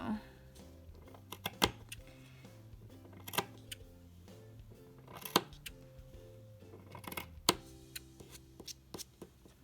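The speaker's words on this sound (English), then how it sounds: "to cut the yarn, I have a short tail here, so I'm gonna cut it this short" Scissors snip a short tail of crochet yarn while making a boho coaster, giving sharp, close clicks scattered among soft handling and rustling noises, with no talking.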